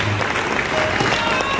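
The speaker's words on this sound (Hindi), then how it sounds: "इंदौर ताली बजती रहे।" Audience applause at a Christian worship gathering welcoming a pastor, steady continuous clapping from a crowd with a voice faintly underneath.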